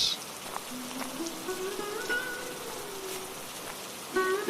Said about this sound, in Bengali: এখনো তো বৃষ্টি পড়ছে